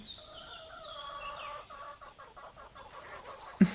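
Hens cluck in a steady run of short, nasal notes, moderately close, ending with a sharp louder burst near the end.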